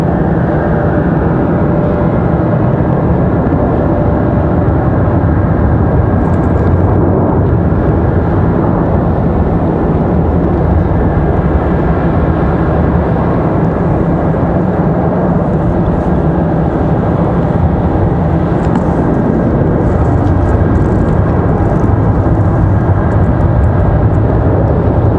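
A Delta airliner inbound from Atlanta to Raleigh Durham sounds as a loud, constant rumbling roar that stays even throughout and masks everything else, with no voices heard.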